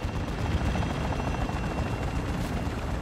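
A military helicopter in the video game Modern Warfare III, its rotor thumping in a dense, loud, continuous drone with steady chopping pulses throughout, no talk over it.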